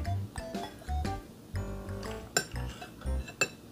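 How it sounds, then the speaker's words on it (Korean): Bowls and spoons clink against each other while red bean porridge is eaten, several sharp light knocks scattered over steady low rustling and murmur. "그릇 부딪히는 소리 듣기 안 좋잖아."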